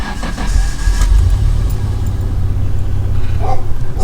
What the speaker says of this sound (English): All right, let's start up the car, see if it likes it.